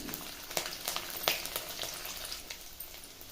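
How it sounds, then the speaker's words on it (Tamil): Cumin, curry leaves and garlic with onions sautéing in hot oil, giving a soft, steady sizzle with scattered crackles and pops, fairly quiet and close, with no talking. "இது எல்லாம் சேர்த்து நல்லா வதக்கி விடுங்க."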